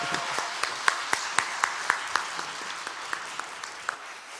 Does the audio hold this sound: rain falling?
no